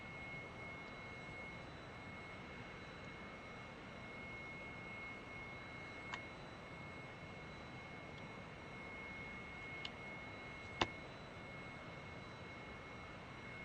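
Jet engine of an aircraft in the DCS flight simulator running steadily as a faint, even roar with a high whine, broken by a few brief clicks.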